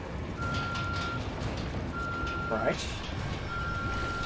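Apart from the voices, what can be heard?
beeping device in the video game The Evil Within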